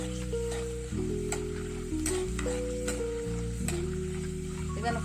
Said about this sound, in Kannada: ಇದನ್ನು ಫ್ರೈ ಮಾಡಿ ತೆಗೆದಿಟ್ಕೊಂತಾರೆ